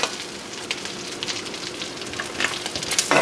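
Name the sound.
shrimp frying in oil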